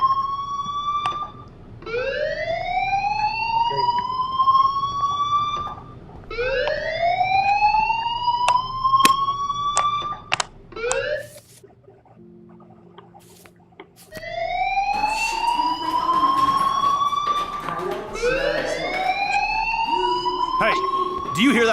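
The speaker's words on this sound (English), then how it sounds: "Do you hear that fire alarm?" A fire alarm wails in the video game Life Is Strange, a loud rising electronic siren repeating in sweeping cycles, breaking off briefly before resuming, with a voice speaking over it.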